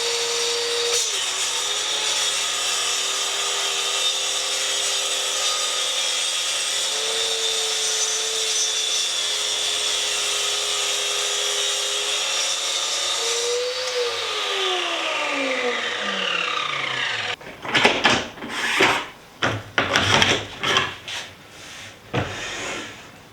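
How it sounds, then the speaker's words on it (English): A BORA budget track saw makes a full plunge cut in wood with the depth stop set to 5/8 inch. The motor whines loud and steady, then winds down, followed by a few sharp knocks and scrapes. "I'm going to go ahead and make this cut"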